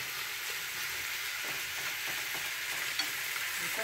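Chicken teriyaki sears in a frying pan, giving a soft, even sizzle with light stirring throughout.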